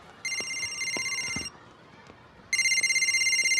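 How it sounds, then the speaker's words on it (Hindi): An electronic telephone rings in two loud bursts of rapid warbling tones separated by a short pause, with brief soft sounds between rings. "उठा ले बेटा, तेरी मम्मी का ही फोन होगा."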